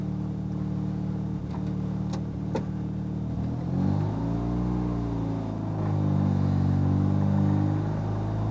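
Rotary engine of a Mazda RX7 FD heard from inside while driving, a steady low drone with rising and falling harmonic sweeps as it accelerates and shifts, plus a few sharp clicks early on.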